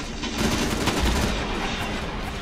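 Heavy gun in the video game Terminator Genisys fires a loud, dense burst of rapid blasts, booming close and continuous for the whole stretch.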